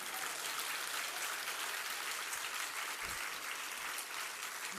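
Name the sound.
audience clapping, applause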